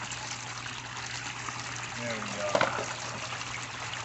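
Water washes steadily through a new gold sluice box at an Indiana creek, a continuous rushing flow with a brief splashy burst, while someone speaks briefly over it.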